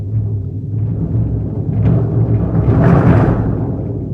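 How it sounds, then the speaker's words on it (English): A bass drum roll builds into a big moment without tapering off, a dense low rumble that swells and stays loud to the end, with no voices. "So let's say I have a roll that leads into like a big moment and it does not"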